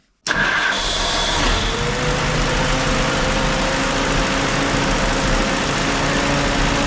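A small engine, just patched with electrical tape, fires up abruptly and settles into a loud, steady idle that runs a little high and stays constant throughout, close by and without speech.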